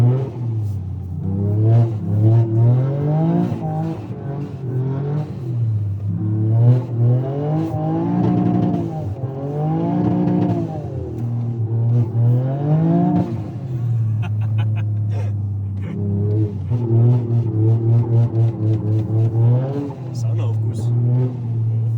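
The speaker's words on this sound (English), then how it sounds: "Car sounds like a rally car." A Toyota GR Yaris engine revs and surges repeatedly on snow, rally-car-like, rising and falling in pitch, loud and close throughout, with a voice talking over it at times.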